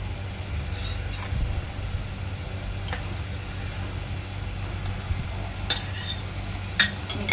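A spoon scrapes and stirs ginger-garlic paste in a pan for prawn pulav, making soft intermittent scraping taps over a low steady background hum.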